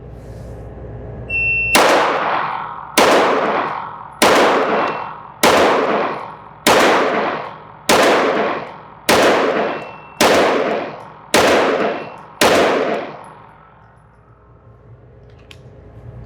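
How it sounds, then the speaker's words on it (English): A handgun fires ten slow, evenly spaced shots at a shooting range at 10 yards, each a sharp loud crack with a short ringing decay, followed by a quiet pause. "So we're going to do an additional 10 rounds here and see what the grouping looks like."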